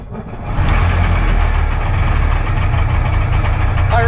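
A Goggomobil Dart's small engine runs steadily and loudly, a dense low rumble holding even throughout, with a brief faint squeal right at the end.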